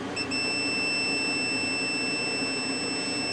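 A multimeter gives a continuous, steady high-pitched continuity beep while a relay circuit on a Kenwood TS940 radio board is tested, heard alone over a faint background hum.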